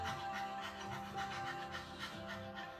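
A person imitates a small dog's panting with quick, rhythmic, soft breaths, close and quiet, alone without speech.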